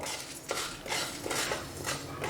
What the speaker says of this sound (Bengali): এবার আমি গ্যাসটাকে অন করে দিচ্ছি, দিয়ে শুকনো খোলায় এটাকে 1 মিনিট ধরে ভেজে নেব।